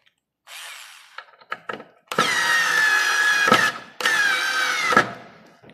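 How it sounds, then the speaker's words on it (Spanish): A Daewoo 3.6-volt lithium cordless screwdriver drives a screw, giving two sustained, close motor whines of about a second each, preceded by a few short clicks and taps. "Sigue atornillando bien, la verdad. Muy lindo. Muy lindo atornillador."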